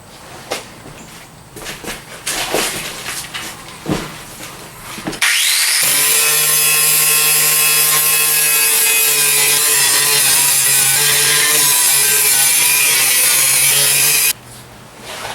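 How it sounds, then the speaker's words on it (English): A grinder works rusted spots on a truck body, with some clattering handling first and then a loud, steady, high whining grind that holds for about nine seconds before stopping abruptly. "I'm just gonna grind those down so I can touch them up with paint"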